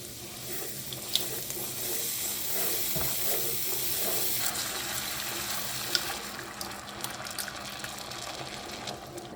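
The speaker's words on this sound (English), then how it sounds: "Then we'll continue stirring until it's all smooth." Half and half being stirred into a mac and cheese sauce on a stovetop, a steady soft sizzle and liquid swishing with faint scraping, continuous and fairly quiet.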